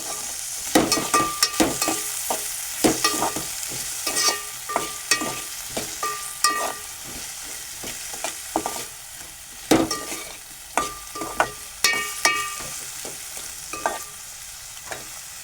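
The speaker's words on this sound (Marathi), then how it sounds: "जेणेकरून आपला कांदा पण कांदा टोमॅटो आणि बटाटाही शिजेल आता याच्यात मी थोडंसं परतून घेणार आहे" Onion, tomato and potato being sautéed and stirred in a pan for a Maharashtrian potato-onion curry, with steady sizzling broken by repeated scraping stir strokes and spoon clinks at close range, no talk.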